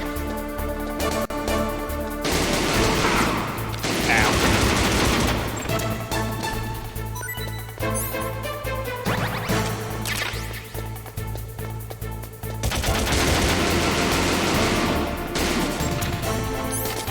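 Loud, repeated FAMAS rifle fire in Metal Gear Solid 2 crashes in dense bursts and sharp impacts over a continuous game soundtrack, with only short pauses between volleys.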